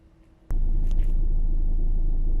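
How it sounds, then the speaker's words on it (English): A Peugeot 208 engine starts up after a fuel filter replacement and settles into a steady, loud, low rumbling idle that continues without a break. "as you can hear, the car is now running"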